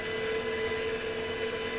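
An electric mixer runs steadily through chocolate chip muffin batter in a bowl, giving a constant close buzzing whine with no change in pitch and no talking.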